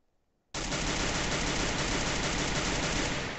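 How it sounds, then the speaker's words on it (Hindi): Sustained automatic gunfire in the mobile shooter game Free Fire starts abruptly and continues as a dense, loud, unbroken stream of rapid shots. "गोली चल रही है भाई।"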